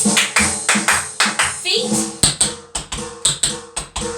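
Sharp hand claps and taps during a grade 1 tap dance routine, a steady rhythmic series of about a dozen crisp hits, with a voice talking briefly between them.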